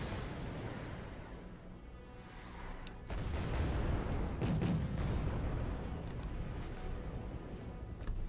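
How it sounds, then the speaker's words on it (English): Bombs from a Mirage jet blast in the Wargame Red Dragon mountain warfare battle, a series of deep rumbling booms and rolling explosions building after a quieter stretch, fairly distant and dense, no talk. "Mirage is dropping bombs."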